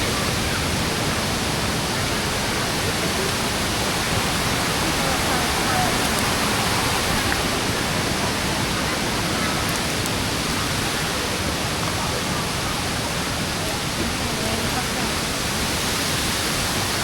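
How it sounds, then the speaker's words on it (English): Tad Keo Muong Kout waterfall in Laos gives a steady, dense roar of falling water that stays constant throughout, close and loud, with the waterside restaurant's tables nearby. "They have tables by the waterfall."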